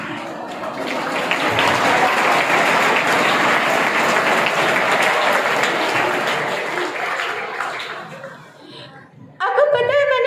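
Audience at a school science fair applauds in a loud, sustained wave with some laughter, fading out near the end before speech resumes.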